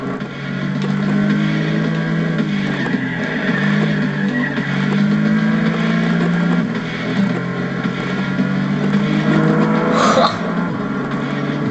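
Nissan GT-R engine pulling hard on a racetrack, a loud continuous drone with steady harmonics that holds through the run, with a brief higher burst near the end.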